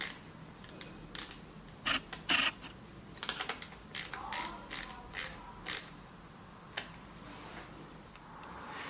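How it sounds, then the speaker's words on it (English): An Allen key tightens the brake pinch bolt on a Brompton folding bike, giving a series of close, crisp ratcheting clicks in small irregular bursts, with a low background hum between them. "so I can actually go ahead and tighten the brake pinch bolt"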